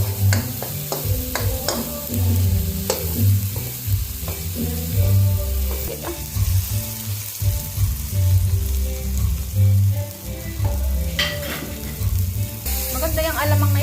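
Milkfish sizzling and frying in a pan as binagoongan with coconut milk is cooked, with steady sizzle and stirring scrapes throughout, close and fairly loud.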